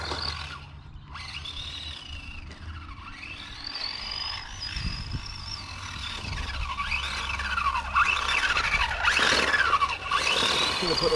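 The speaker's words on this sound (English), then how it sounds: "I'm staggered at how much it is struggling in that grass. Well, it's not struggling, the wheels are just spinning" Whining electric motor of a Kyosho Lazer Alpha RC car rising and falling in repeated squealing sweeps as its wheels spin in grass, heard from nearby with people talking over it.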